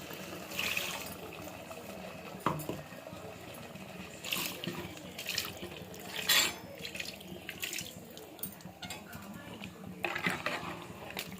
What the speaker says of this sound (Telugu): కొద్ది నీళ్ళు పోసుకొని దాన్ని కర్రీలోకి వేసేసుకుందాం